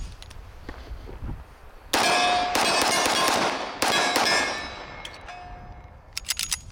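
Springfield Armory Mil-Spec stainless 1911 pistol fired outdoors, with several loud sharp gunshots in irregular succession, each cracking and ringing out, and a few fainter metallic clinks near the end.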